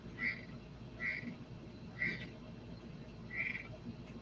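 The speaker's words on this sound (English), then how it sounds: "the frog moved" Frog croaking right next to a window, four short regular croaks about a second apart, fairly faint over a steady noisy background with no talk.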